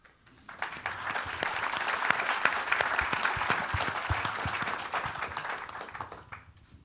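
A crowd at a Los Angeles ska club show bursts into applause. Sharp individual claps rise quickly, hold at full strength for a few seconds, then fade away.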